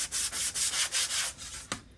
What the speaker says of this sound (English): I'm going to do a little sanding on here just because that's my way.